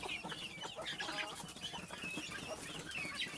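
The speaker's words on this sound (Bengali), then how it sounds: "আমার এই মুরগিগুলো কিন্তু ডিম নিয়ে বসে" Desi hens sitting on eggs inside a dark poultry house cluck softly and continuously, several birds overlapping in low murmuring calls, quiet and close with no talk.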